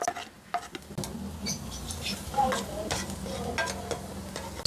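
Ginger and garlic sautéing in a pan, a soft sizzle under scattered scrapes and clinks of a utensil stirring against the pan, close and quiet.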